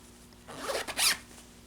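A zipper is pulled in a quick rasping run, with one short zip followed by a longer, brighter one, close up and quiet otherwise.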